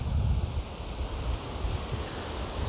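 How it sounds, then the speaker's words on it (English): Wind gusts across Tom Campbell's Hill Park, a hilltop park in Calgary, buffeting the microphone with loud, steady rumbling and broadband rushing, with no voices. "It's windy."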